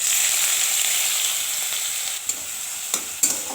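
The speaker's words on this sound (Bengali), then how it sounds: "পেঁয়াজগুলোকে ভালো করে ভেজে নেব" Onion paste frying in mustard oil in a kadai, a loud continuous close sizzle with a few sharp stirring clinks near the end, no voices.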